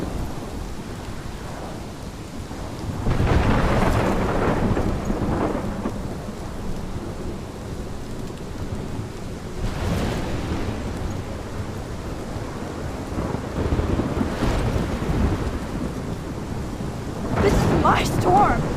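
A thunderstorm in the game Life Is Strange rumbles with repeated rolling thunder over a steady wash of rain, several loud swells rising and fading across the stretch.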